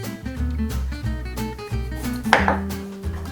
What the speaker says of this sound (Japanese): まずさつまいもをよく洗ったら端っこを切り落とします。